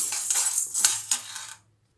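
Roasted chana dal tipped onto a plate, a dense rattling pour of small dry lentils lasting about a second and a half, close and fairly loud, then stopping abruptly into silence.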